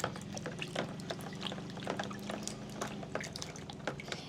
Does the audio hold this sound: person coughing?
no